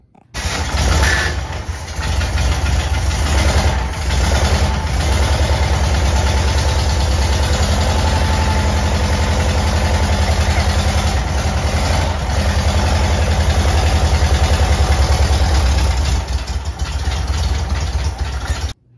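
A 1966 Volkswagen Beetle air-cooled engine, newly installed and fed from a gas can, fires up with a brief bump at the start and then settles into a loud, steady idle that runs nearly unbroken to the end.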